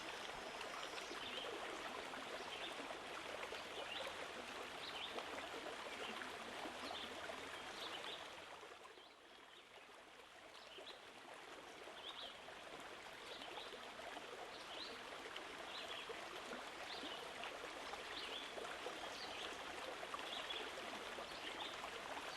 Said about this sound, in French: au bruit de l'eau qui passe, qui coule dans la rivière